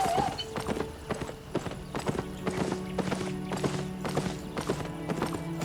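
Mount hooves clip-clopping in the video game Albion Online, a steady trotting rhythm of close, sharp hoofbeats over a low ambient game hum, with a brief animal whinny at the start.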